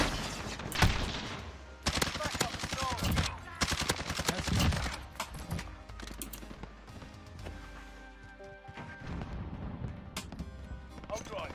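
Rapid bursts of first-person shooter gunfire, sharp repeated shots and automatic fire in clusters with brief gaps, loud and close, mixed with game effects and a voice talking over parts of it.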